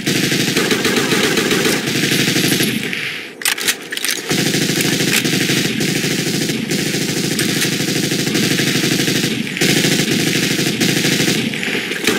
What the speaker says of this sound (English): Machine gun spotted!